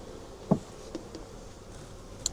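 Honey bees at a beehive fitted with supers, a faint low buzzing hum in a quiet outdoor setting with a couple of brief louder passes close by.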